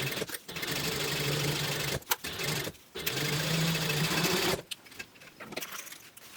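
A sewing machine stitching a fabric book bag runs in steady mechanical bursts with short pauses, then stops for quieter handling noises toward the end.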